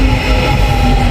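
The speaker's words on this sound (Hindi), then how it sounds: "ये हमारी ट्रेन आ गई है जी।" A metro train pulls into a station in Istanbul, giving a steady, loud rumble of wheels and carriages with a sustained tonal hum throughout, close by and without speech.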